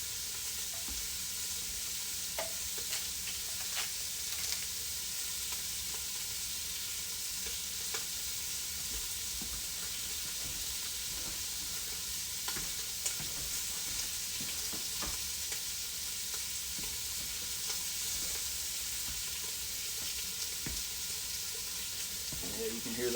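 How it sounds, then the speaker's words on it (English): Jambalaya full of rice sizzles steadily in a pan on high heat, a loud continuous crackle and hiss with occasional scraping stirs, no voices. "Yeah, you can hear that sizzle. We got her on high."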